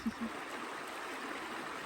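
A creek flows through snowy winter woods, a steady soft rush of water close by with no clear voice over it.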